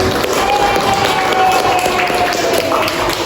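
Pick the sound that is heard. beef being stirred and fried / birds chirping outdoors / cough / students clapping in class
students clapping in class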